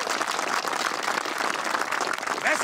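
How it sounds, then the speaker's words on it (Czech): A group of military recruits claps steadily in dense, continuous applause that fills the whole moment, loud and close with no pauses. "teď si zatleskejte"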